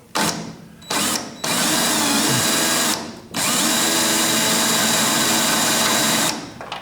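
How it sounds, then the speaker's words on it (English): A power drill bores through spot welds on the steel floor pan of an old truck cab, running in several sustained bursts with short pauses between, loud and close. "I'm going to drill"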